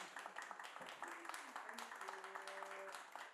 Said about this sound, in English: Applause, by the way, is a very strange sound if you haven't heard it for several months